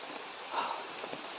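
Steady rain falls outdoors near a dead, scorched tree, a continuous soft hiss of drops on surfaces with no talking, holding an even level throughout.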